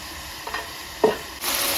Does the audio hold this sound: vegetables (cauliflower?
yes